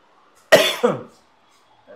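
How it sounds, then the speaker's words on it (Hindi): A teacher's cough during a maths lesson: two sharp, close bursts about a third of a second apart, with silence on either side. "खांसी आ रही है"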